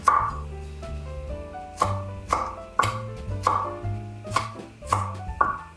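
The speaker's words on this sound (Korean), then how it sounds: "대추는 돌려깎기해서 살만 발라주시고 잘게 다져주세요" Knife chopping jujube flesh on a cutting board, a steady series of sharp, close taps spaced roughly a second apart over a quiet kitchen background with faint music.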